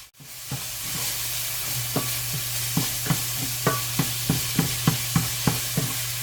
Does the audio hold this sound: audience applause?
no